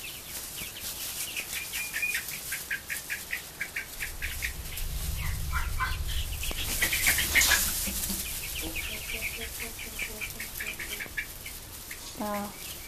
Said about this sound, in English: this is an update on our meat birds